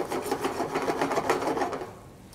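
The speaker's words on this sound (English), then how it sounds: "So deglazing is scraping all the particles off the bottom, all the good flavor." A pan bottom being scraped while deglazing a bacon and onion mixture, a rapid rhythmic rasping that carries on for about two seconds and then fades.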